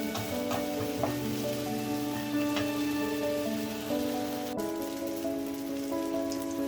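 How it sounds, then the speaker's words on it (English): Masala spices frying hard in a kadai over a high flame, giving a steady, close crackling sizzle that runs throughout, with a sharper shift partway through. "I've been frying the masalas for almost 10 minutes on high flame."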